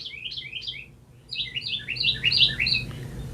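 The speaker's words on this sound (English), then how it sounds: "I think the bird wants to say something." Small bird outside chirping in two bursts of quick, rhythmic tweets, a short run then a longer, louder series, fairly close over a steady low background hum.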